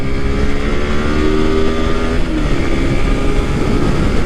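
Honda VTR 250 motorcycle engine running steadily at fairly high revs, a loud continuous drone with a slight shift in tone partway through, with no voices.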